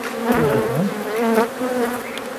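Loud, close buzzing of many angry honeybees at an organic honey apiary in Bingöl, an agitated droning hum that rises and falls continuously.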